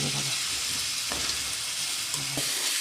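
Ground green chili paste hits two spoons of hot oil for a dried prawn chutney, giving a dense, even hiss of frying with a few brief stirring knocks close by.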